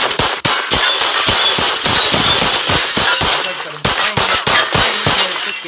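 Repeated loud glass-shattering crashes and breaking impacts, a rapid series of smashes with debris clinking, as a car gets wrecked in a video game.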